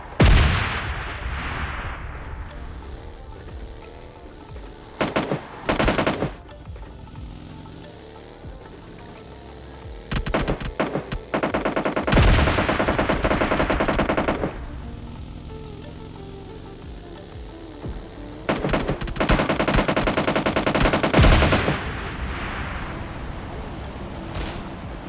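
Gunfire rings out in the mobile battle royale game PUBG Mobile Lite, with several bursts of sharp shots and rapid volleys separated by quieter stretches of game ambience, close and punchy.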